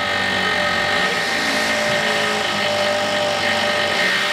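A power drill runs continuously, boring holes into the front face of an insulated pizza oven dome for mounting lath, a steady loud whine throughout with no pauses.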